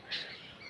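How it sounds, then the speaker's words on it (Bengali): Birds call on a morning rooftop beside a tree, where a cuckoo had been singing, with one brief, faint chirp near the start over quiet outdoor hush. "সকালবেলা বিভিন্ন পাখিদের ডাক শুনতে ভীষণ ভালো লাগছে।"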